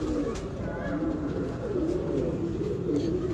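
Pigeons coo steadily nearby in soft, rolling, repeated calls, with someone talking over them throughout.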